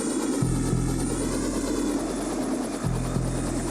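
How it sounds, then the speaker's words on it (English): Helicopter rotor chop pulses steadily and loudly through a scene in the 1982 horror film The Thing, a continuous low throbbing beat with a constant engine drone and no talk. "Also, helicopters, so dangerous."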